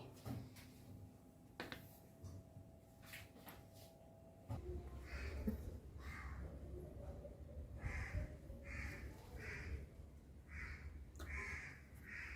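Crows caw repeatedly at moderate distance outdoors where pork is laid out to sun-dry, their calls recurring in a steady series over a low background rumble.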